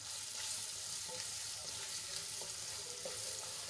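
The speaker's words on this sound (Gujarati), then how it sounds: "ડુંગળીને આપણે ગુલાબી રંગની થાય ત્યાં સુધી સાંતળી લેવાની છે" Finely chopped onions sautéing in a pan with gram flour, a steady close sizzle and crackle running throughout with occasional soft stirring ticks.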